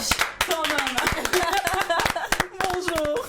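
A television studio audience claps in sharp, uneven bursts that grow dense at moments, while voices and cheers ring out over the hands.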